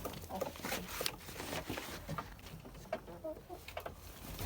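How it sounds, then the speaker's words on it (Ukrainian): Chickens cluck softly nearby in a poultry shed, scattered short calls over a low, steady background hum. "Кури мене зустрічають"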